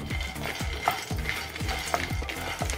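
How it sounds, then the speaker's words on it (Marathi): Peanuts dry-roast in a pan over a gas flame, crackling under a steady rhythm of repeated scraping stirs, close and fairly loud. "ते बघू शकता तुम्ही, शेंगदाणे होत आलेले आहे, तडतडत आहे"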